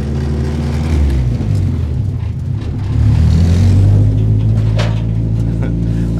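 A worn Honda Civic hatchback being driven, its engine a steady low rumble with road noise, swelling slightly louder about halfway through.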